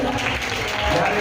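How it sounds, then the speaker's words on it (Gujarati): Brief burst of audience clapping at a Gujarati artist audition event as a certificate is presented, a short dense patter of applause with a voice over it. "તાળીઓ થઈ જાય"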